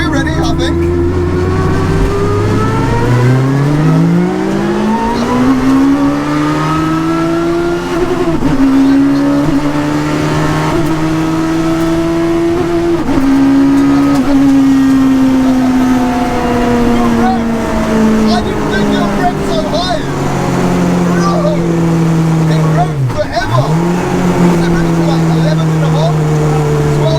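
A £500 Peugeot 106 fitted with a superbike engine accelerates hard on a rough runway, its high-pitched engine note climbing and revving on and on, loud and close, with a shift dip near the end and voices talking over it.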